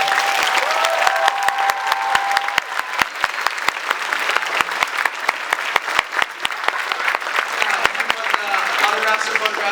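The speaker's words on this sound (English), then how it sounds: "Let's all give one round of applause for Jenna." Comic Con panel audience claps in a sustained round for Jenna Coleman, a dense crowd roar of hands with scattered sharper claps, while a voice speaks briefly over the start.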